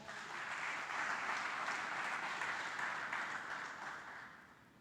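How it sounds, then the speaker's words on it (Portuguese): A faint, steady round of applause from a church congregation, rising slightly, holding, then tapering toward the end, heard from some distance. "Dá um aplauso, fica de pé."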